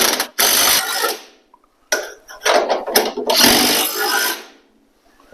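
A ratchet tightens bolts on the brackets of Bronco camper jacks in close, loud bursts of rapid clicking. The bursts are separated by short pauses, and nobody talks.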